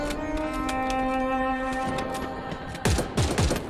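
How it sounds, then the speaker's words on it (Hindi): Gunfire in the Free Fire video game: a sustained musical tone fades out, then a short cluster of sharp shots cracks out near the end, fairly loud with no talk over them. "रोको, फायरिंग रोको।"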